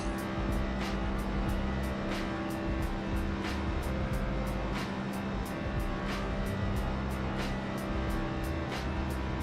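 Race car engine in an online racing video game, a steady loud drone with regular sharp ticks, holding a continuous roar throughout without talk.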